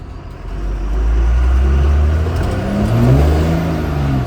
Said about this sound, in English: Just do third gear burnouts like nothing